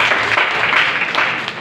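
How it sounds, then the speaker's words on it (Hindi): Clapping from an audience at a college Constitution Day speech, a loud, continuous burst of many hands applauding together, fairly close and sustained for the whole moment. "ताली बजाइए।"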